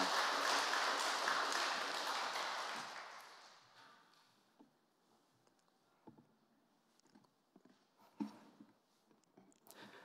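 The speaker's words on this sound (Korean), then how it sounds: "우리 전도사님 나오실 때 전도사님 보내주신 하나님께 감사합니다라고 하나님께 영광의 박수를 올리며 맞이하도록 하겠습니다" A church congregation at a Wednesday service applauds to welcome a preacher; loud, dense clapping fills the opening seconds, then fades into near silence with a few scattered taps and small sounds.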